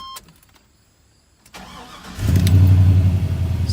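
A 1985 Chevy C10 with an LS-swapped engine cranks briefly and catches on the first try, then settles into a loud, steady idle close by. Faint clicks come before the start.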